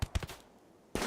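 Gunfire in the colony game Rimworld: two sharp, close shots in quick succession, followed by a short quiet gap and then another loud burst.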